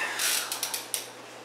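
PlayStation VR headband ratchet being tightened, a fast run of plastic clicks followed by a few separate louder clicks, close and alone.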